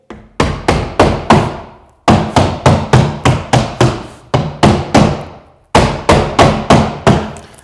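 Sharp claw hammer strikes on 6mm Hardie cement backer board land in quick bursts of four or five, each ringing briefly, with short pauses between bursts; close and loud, no voices.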